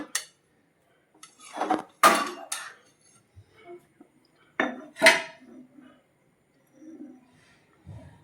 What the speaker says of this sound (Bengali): এবার আমি ছেঁকে এই জারে ঢেলে নিচ্ছি।